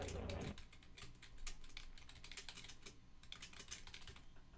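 Rapid, uneven clatter of keys as someone types on a computer keyboard, close and steady throughout, with faint room noise behind.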